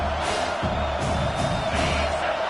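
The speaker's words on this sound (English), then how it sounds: "Decibels rising as the crowd gets behind this defense on 3rd down" A dense crowd roars in a college football stadium in a video game, Clemson vs South Carolina, rising for the defense on third down, a steady wash of cheering and whoops filling the space.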